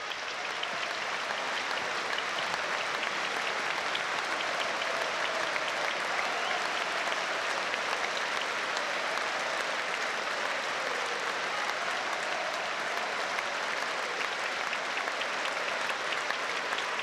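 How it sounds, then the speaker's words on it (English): Sustained applause from a football stadium crowd during a Sunderland versus Sheffield Wednesday match, a steady dense roar of clapping that holds evenly for the whole stretch with no talk over it. "With a round of applause goes out in the 87th minute for Charlie Hurley."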